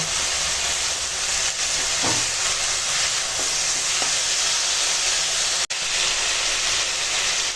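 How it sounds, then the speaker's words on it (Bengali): Vegetables sautéing with spices in a hot pan; a steady loud sizzle and hiss runs throughout, with a few faint clinks of stirring. "এবার মশলার সঙ্গে আনাজটা একটু কষিয়ে নেব।"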